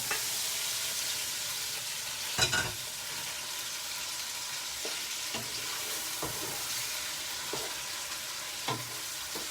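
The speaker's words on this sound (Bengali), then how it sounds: "আমি মাছ দিয়ে দেব।" Fish added to potatoes frying for a Bengali eggplant fish curry. A steady, moderate sizzle carries on throughout, with a few sharp clinks and scrapes of a utensil against the pan.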